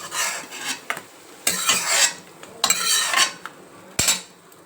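A spoon scrapes softened tomato masala out of a cooking pan into a bowl for an egg masala gravy, giving several short, harsh metallic scrapes separated by pauses.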